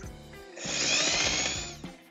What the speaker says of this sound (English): And let's drill the bigger one.